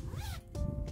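A quick zipper pull on a bag's zipper top, a rising rasp followed by a brief second zip, close up with faint background hum.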